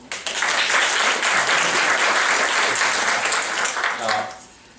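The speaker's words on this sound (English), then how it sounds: "please give yourself a big round of applause" A crowd claps in sustained applause for several seconds, steady and full, before it tapers off and fades out.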